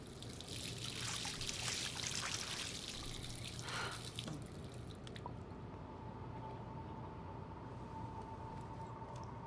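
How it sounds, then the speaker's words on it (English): A faucet in the video game Life is Strange runs with a steady, close rush of water for several seconds, then cuts to a quieter trickle and faint dripping over a low background hum. "Let's use the faucet."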